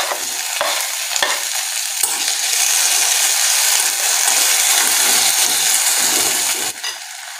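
Onion and finely chopped tomato fry in a pan while being stirred, a steady bright sizzle with scraping strokes of the spoon, close and continuous with no talking.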